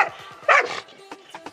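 A village dog barks in a short burst of sharp yips and woofs, close by, while being fed biscuits during a village puja in Bageshwar, Uttarakhand, with a faint scrape of movement between the barks.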